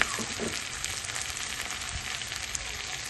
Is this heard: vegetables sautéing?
yes